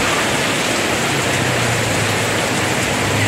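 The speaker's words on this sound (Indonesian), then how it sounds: "Tonton terus hujannya, dengerin suaranya" Heavy rain pours steadily on a Sunday morning, a dense, constant wash of noise close by with no talk over it.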